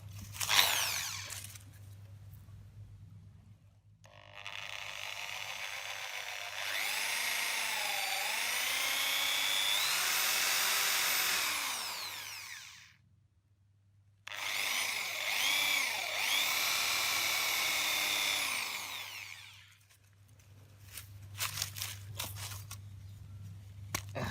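A power drill whines in two long runs, its pitch rising and dipping as it bites into an old rusty knife blade, with a low hum and short pauses between.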